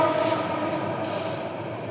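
A train passes with a steady, broad rumble that stays fairly loud and even, with a brief tonal note at the start.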